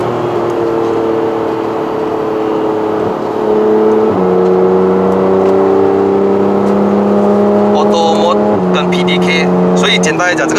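A 2015 Porsche 911 GT3 RS with a PDK gearbox accelerates hard in Malaysia, heard from inside the cabin as a loud, continuous engine drone that jumps pitch at each gear shift, with brief sounds from the cabin near the end.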